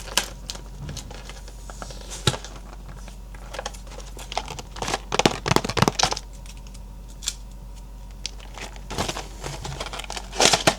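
Thai pineapple cheese biscuit snack packaging being torn open and handled up close, crinkling and rustling plastic in irregular bursts with sharp rips and crackles, no voices.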